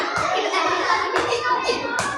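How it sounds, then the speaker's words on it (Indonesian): Children in a classroom clap their hands in several loose bursts, with young voices chattering and calling out between and over the claps. "Oke, terima kasih, tepuk tangan Pak Sabuta."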